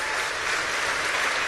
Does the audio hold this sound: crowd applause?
yes